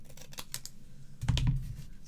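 Scissors snip a little piece off while crafting a sketch card, a few light crisp clicks and rustles followed by a louder, fuller cutting crunch near the end, close and with no talk.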